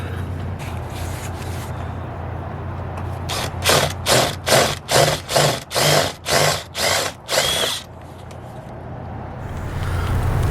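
Power drill cutting out rivets on an outdoor awning cover, with about eight loud, close pulses of the drill in a regular burst and quieter background noise before and after.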